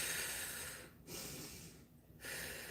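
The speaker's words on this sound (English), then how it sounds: "This is what happens when we breathe with our shoulders." Shallow chest breathing with the shoulders, shown by a person taking two quick, airy breath cycles, close and alone.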